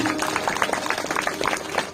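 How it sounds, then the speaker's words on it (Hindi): An audience at a Shrimad Bhagavat Katha religious gathering claps to welcome a guest, a dense, steady burst of applause lasting about two seconds, with faint voices mixed in. "हमारे मिश्रा जी देपालपुर से पधारे हैं, इनके लिए जोरदार ताली से स्वागत करें।"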